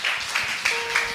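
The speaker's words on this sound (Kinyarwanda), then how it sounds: "Dukomera amashyi Yesu." A church congregation claps for Jesus in steady, rhythmic unison, the claps landing about three times a second and fairly loud, with no voices over them.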